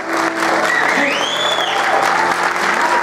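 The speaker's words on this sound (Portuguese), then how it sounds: "Nossa igreja gostaria que desse uma salva de palmas ao Senhor pelos nossos visitantes." A church congregation breaks into sustained applause, a dense, loud wash of many hands clapping together with some voices rising through it.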